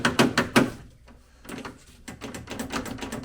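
A series of quick mechanical clicks and clacks as a Mazda MX-5 door handle is worked repeatedly, close up with brief pauses between bursts.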